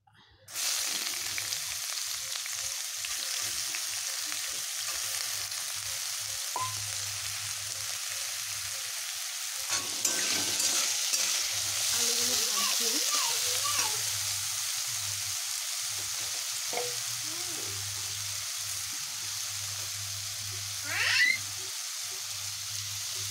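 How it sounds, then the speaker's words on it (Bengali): Potato pieces fry in hot oil in a pan over a gas flame, giving a steady sizzle that runs throughout, with a few brief clinks and scrapes partway through and a short sharper rise near the end. "এবার আমি আলুগুলো ভেজে নেব।"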